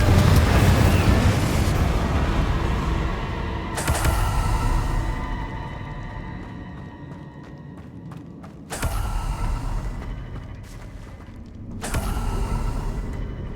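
Magic spell blasts in the video game Hogwarts Legacy: a loud roaring rumble followed by several sharp explosive bursts with creaking, ringing tails, close and powerful.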